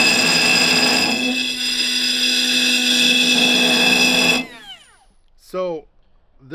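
A Bosch 12V right angle tool, model GWG12V-20S, runs with a carbide bit in a workshop: a loud steady high whine that cuts off abruptly, followed by someone talking.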